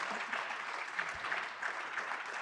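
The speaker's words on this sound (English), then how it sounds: "Can we give them a round of applause?" An audience applauds panelists at a panel discussion, a steady patter of clapping from many hands that holds throughout, fairly faint and with no talk over it.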